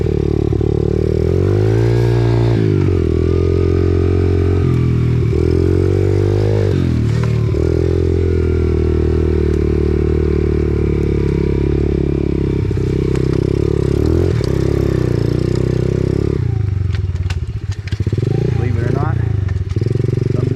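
An Apollo RFZ X4 pit bike engine drones loudly while riding, its pitch rising and falling as the throttle changes, with occasional clatter and wind noise and a voice talking over it.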